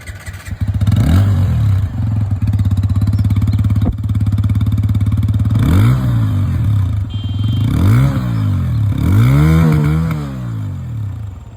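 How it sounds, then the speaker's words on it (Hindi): TVS Apache RTR 160 2V Racing Edition motorcycle exhaust, loud and close, idling with a throaty rumble and blipped through several sharp revs that rise and fall, the last few in quick succession. "यहाँ पर जो एग्जॉस्ट साउंड है वो भी मैं आप लोगों को सुना दूँ। स्टार्ट करते हैं विद अपाचे 162B।"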